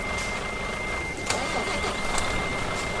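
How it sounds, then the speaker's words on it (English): A truck engine in Euro Truck Simulator cranks and starts, a steady mechanical rumble with a constant tonal whine and a sharp click as it catches, playing alone at moderate loudness. "Start the fuck up, engine!"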